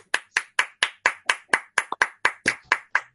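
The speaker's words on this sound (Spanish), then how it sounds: "Pueden abrir su micrófono para darle un aplauso a Vladimir" Single pair of hands clapping over an online meeting microphone, about thirteen sharp, evenly spaced claps close to the mic, with quiet gaps between each.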